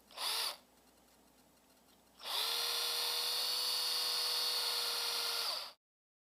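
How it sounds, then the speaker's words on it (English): A power drill whines briefly, pauses, then runs again in a long steady high-pitched burst, drilling old insulation out of an Apple MagSafe power cord's tubing, before stopping abruptly. Close and fairly loud. "you've drilled out all the old insulation from inside the tubing here"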